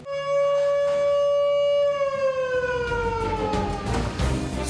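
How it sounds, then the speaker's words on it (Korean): An emergency siren wails inside a military base, a loud steady tone that slowly slides downward as it winds down while rumbling background noise rises. "갑자기 부대 안에 비상 사이렌이 울린다"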